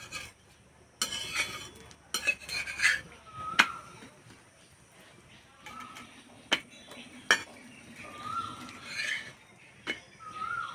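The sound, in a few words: egg paratha being turned and roasted on a hot tawa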